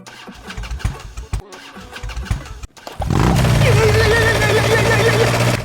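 A motor engine, probably a motorcycle, catches after a short start attempt and settles into a loud, steady near idle, with a faint voice before it fires.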